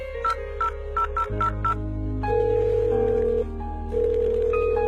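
A telephone is dialed, giving a rapid run of keypad tones, each a short beep, followed by steady dial and ringing tones, close and clear, with no talking.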